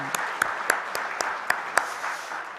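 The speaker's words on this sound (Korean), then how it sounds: "네, 주의 위로의 박수를 드립니다" Church congregation clapping in comfort after a member's death during a Sunday worship service, a steady wash of applause with sharp, evenly spaced collective claps about every quarter second.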